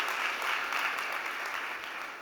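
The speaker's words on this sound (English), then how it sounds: "Can we have a big round of applause for Francisco Valferreira from Mani?" Audience applause at a startup competition event, a steady, dense wash of clapping from a crowd that holds evenly for the whole stretch without any talk.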